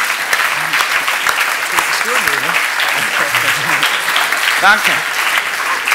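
Loud, continuous crowd applause at a closing ceremony as team members are thanked, sustained throughout with a voice briefly speaking over the clapping.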